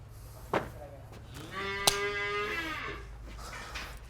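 A cow lets out one long, close, resonant moo at a livestock sale, with a short bump and faint background noise before and after.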